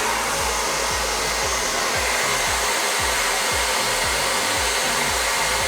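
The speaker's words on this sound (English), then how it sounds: "you want to switch it on" A hair dryer blows loudly and continuously, a dense whooshing roar with a low pulsing hum underneath, no voices.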